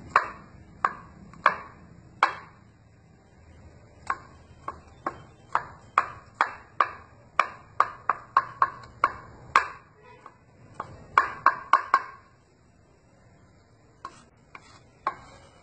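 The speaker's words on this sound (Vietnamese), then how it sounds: "mình băm nhỏ ra là được" Garlic crushed and then minced with a kitchen knife on a cutting board, heard as a long run of sharp, close knife chops in uneven bursts, with brief pauses between the series.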